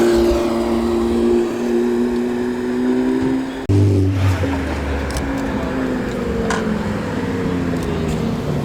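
Sports car, a Technica, driving past at a coastal car event, engine note rising and then falling away as it passes nearby, with a louder low burst midway through the pass.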